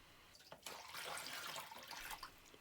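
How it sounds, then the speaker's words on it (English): Leftover water is dumped from the opened reservoir of a Little Giant furnace condensate pump, a faint, brief splashing pour that starts abruptly and runs steadily for a couple of seconds with no talk. "Now you can pop the lid off and just dump the rest of the water out."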